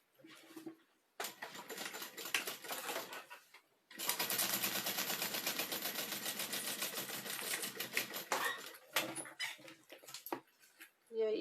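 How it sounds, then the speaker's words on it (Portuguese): A sewing machine stitches seams on a kit necessaire toiletry bag, rattling close and fast in short runs, then a long unbroken burst of rapid needle clatter before it stops. "E eu vou fazer a costura aqui"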